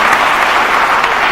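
A short burst of dense audience applause at an on-stage business competition, loud and continuous without pause.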